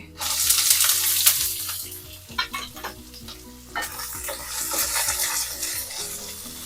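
Oil sizzles and crackles steadily as onions and green chilies fry in a pan, with occasional stirring scrapes and clinks close by.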